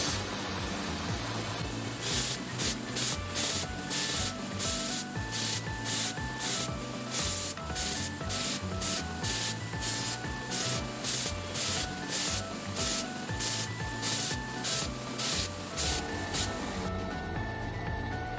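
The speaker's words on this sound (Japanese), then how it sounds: "峰は長時間指を乗せた時に痛くないように、慎重に角を丸めながら形が崩れないように磨いていきます" A polishing belt works the spine of a Ginsan (silver-3) steel single-bevel Japanese petty knife being mirror-finished, making loud, steady hissing strokes that repeat in an even rhythm about twice a second, with no talking.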